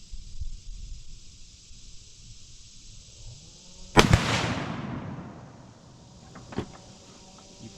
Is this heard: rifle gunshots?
yes